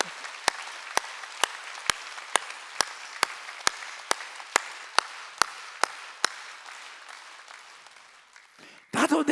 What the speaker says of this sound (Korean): 박수 치려면 치는 거야.